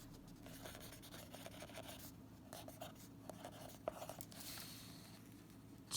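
Pen or pencil drawing lines on paper for a math lesson, a soft continuous scratchy rubbing close up with faint small taps, steady and quiet with no talking.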